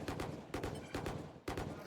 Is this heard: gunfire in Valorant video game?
yes